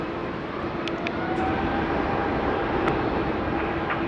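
Singapore Airlines airliner departing Sydney Airport, heard as a steady, moderately distant jet engine roar with a faint tonal whine, holding constant throughout with a few brief clicks.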